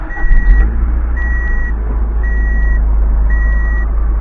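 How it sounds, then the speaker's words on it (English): An Acura Integra engine idles high after start-up with a loud, steady low rumble, while a repeating beep sounds four times at even intervals over it. "let's see how high it idles right now."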